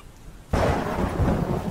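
Thunder crashes in suddenly over steady rain in a Halloween horror video game about Michael Myers, a loud broadband rumble that sustains with heavy downpour texture throughout.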